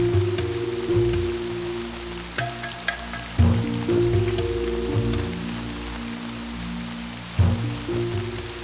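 Continuous rain pattering and hissing on a surface, with a steady low hum and a few short knocks in the background; no voices.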